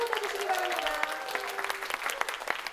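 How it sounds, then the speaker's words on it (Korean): Applause from the audience at the opening of the first Korean-language speaking contest for foreign participants, a dense, steady round of clapping lasting a few seconds, with a voice tone briefly audible over it. "여러분 뜨거운 박수 보내주시기 바랍니다."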